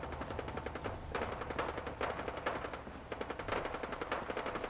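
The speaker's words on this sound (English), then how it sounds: "Gunfire going on." Fallout 4 video game gunfire: repeated sharp shots in an irregular, rapid rhythm over a wet, rain-like background, moderately loud, with no talk.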